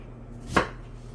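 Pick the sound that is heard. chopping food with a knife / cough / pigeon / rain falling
chopping food with a knife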